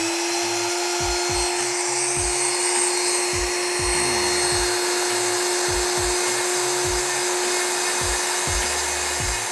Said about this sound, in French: Alors là je vais attaquer avec la petite fraise pour commencer à dessiner en fait les contours